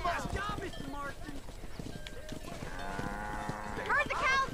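Cattle herd driven down a dirt road in the Western video game Red Dead Redemption, with steady hoof clip-clop, scattered lowing moos and horse sounds, while voices talk over the herd throughout.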